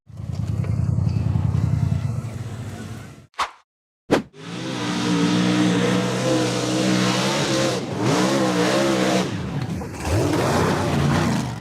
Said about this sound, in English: The buggy with the pink frame hit the throttle hard in an attempt to conquer the rough red dirt slope